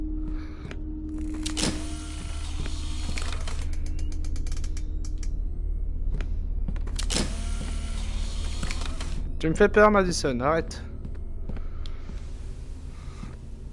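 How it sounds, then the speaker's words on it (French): Creaking and mechanical groaning from an attic in the VR horror game Madison VR, several separate creaks and ratcheting squeaks spread across the scene, with a person talking over parts of it. "Peut-être le grenier là, ça grince à mort."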